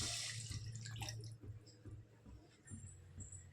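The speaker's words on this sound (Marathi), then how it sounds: "2 कप पाणी ओतलंय." Two cups of water go into a hot kadhai with melted butter, giving a quiet rushing splash that fades into faint drips and gurgles.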